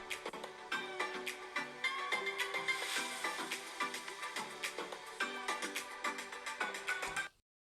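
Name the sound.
laptop speakers playing test audio at 50% volume, Galaxy Book2 Pro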